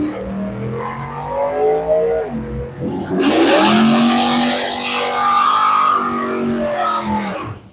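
A silver Chevelle drag race car launches hard in the right lane at a drag racing event, its loud engine roaring and accelerating close by, the sound swelling abruptly partway through and staying loud throughout.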